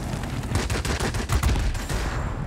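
Rapid bursts of heavy aircraft cannon fire in World of Warplanes 2.0 rattle continuously over a dense, noisy background, loud and close, with no voices.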